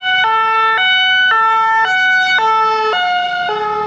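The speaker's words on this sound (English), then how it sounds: "even like the sound of the police cars are different" European-style two-tone police car siren in St Maarten, loud and close, alternating evenly between a high and a low note about every half second.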